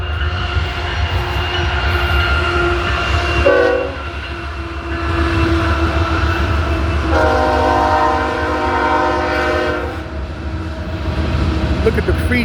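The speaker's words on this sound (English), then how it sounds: "You want to see the train?" A train rolls past close by with loud horn blasts and rail noise, the horn sounding in several long bursts over the steady rumble of the cars.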